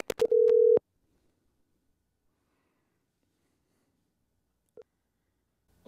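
A short, loud telephone tone sounds through a phone line before a podcast call, with brief clicks around it, followed by several seconds of near silence and a faint blip.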